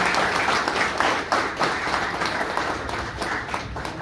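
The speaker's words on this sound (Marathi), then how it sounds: "त्यांच्यासाठी जोरदार टाळ्या." Sustained audience applause at a lecture for LIC in Pune, dense clapping from a large crowd, steady and fairly loud throughout with no voices over it.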